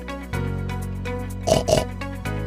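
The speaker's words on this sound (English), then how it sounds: "Pig." A pig gives low grunting oinks, a sustained grunt followed by two short snorting bursts close by, with no voices.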